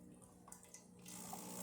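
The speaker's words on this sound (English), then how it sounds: "Let me test it and see the water from the group head." Water runs from the group head of a Breville Oracle espresso machine during testing after a service, a steady soft splashing stream heard up close, fairly faint, with no talk.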